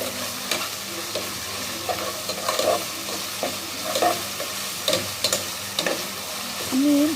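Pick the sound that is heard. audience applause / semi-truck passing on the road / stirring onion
stirring onion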